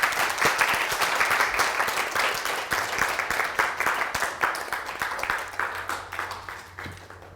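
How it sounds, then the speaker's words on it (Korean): A church congregation gives sustained, warm applause as a bishop comes forward to preach, steady dense clapping from a large group that tapers toward the end, heard alone without talk. "감독님 나오실 때 뜨거운 박수로 맞아 주시겠습니다."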